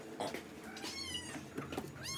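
A pet cat meows at feeding time, a few rising and falling cries close by in a domestic room with light household noise underneath.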